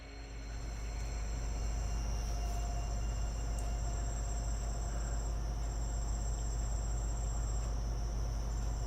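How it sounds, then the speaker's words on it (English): Crickets chirp outdoors at night in a steady, dense, continuous trill that stays loud and unbroken throughout, with no talking. "I can't see these damn crickets out here."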